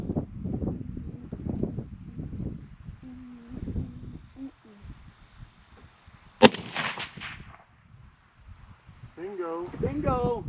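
Rifle shot fired while hunting antelope in Colorado, a single sharp, loud crack midway with a short decaying tail, preceded and followed by hushed talk among the hunters.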